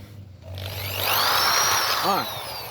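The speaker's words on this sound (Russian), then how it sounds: "давайте попробуем посверлить" A power drill being test-run, its motor whining up in pitch and holding a steady high drone, close and fairly loud, with a brief voice-like warble near the end.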